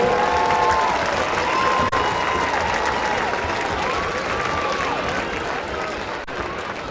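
A crowd at a high school football game applauds the homecoming court, steady clapping and light cheering that slowly fades toward the end, with a whistle-like tone drifting through.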